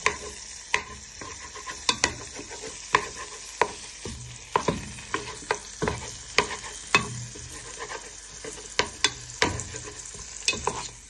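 Prawns, chorizo and bacon fry in a pan while a wooden spoon stirs and breaks them apart, giving a close, steady sizzle punctuated by frequent sharp scraping knocks at an irregular rhythm, with no voices.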